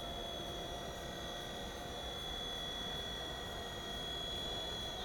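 A small WLtoys V911-pro RC helicopter flies close by at full throttle, giving a continuous high-pitched electric motor whine with a steady rotor buzz that holds level throughout.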